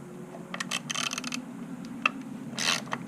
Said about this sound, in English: Now we'll remove these 3 T27 bolts,